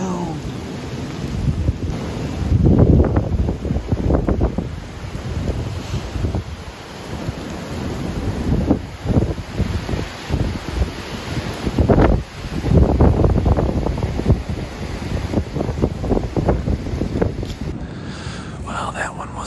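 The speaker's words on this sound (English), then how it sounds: "It's like a dang wind tunnel down in this valley." Strong gusting wind roars through a valley on Michigan public land during a deer hunt, loud buffeting gusts rising and falling with bursts of rain, someone talking at times over the noise.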